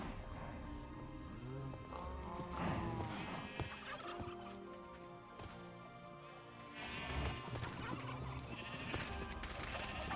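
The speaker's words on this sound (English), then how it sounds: "we could feed the sheep to get more sheep" Sheep in a modded Minecraft survival game bleat several times, the calls rising and falling over a dense, continuous layer of game music and ambience, at moderate loudness with no talking.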